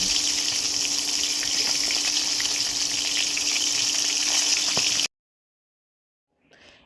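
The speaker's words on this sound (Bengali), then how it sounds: "আমি আগে নুন হলুদ দিয়ে মাখিয়ে তেলে দিয়ে ভেজে নিই" Silver carp pieces coated with salt and turmeric sizzling in hot oil, a steady loud hiss and crackle for about five seconds before cutting to near silence with a faint brief noise.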